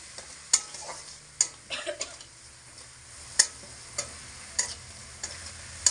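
A spice paste for jeera aloo fries in a pan over a raised flame and is stirred continuously, with a soft sizzle and irregular sharp taps and scrapes of a spoon against the pan, close and without talk.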